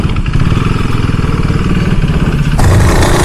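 A KTM RC390 motorcycle engine, serviced for a throttle body complaint, runs loud and close with a rapid, rough pulsing idle that swells slightly near the end, with no talk.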